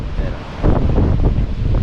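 Strong wind buffets the microphone on the Batanes coast while sea waves surge in the background, a rough, continuous roar that swells louder midway.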